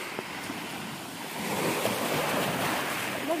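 Sea waves wash along an island shore, a soft watery wash that swells into a fuller surge partway through, mixed with light wind buffeting on the microphone and no speech.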